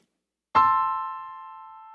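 A single minor chord struck once on a keyboard instrument, ringing out clearly and slowly fading while sustained, with nothing else heard.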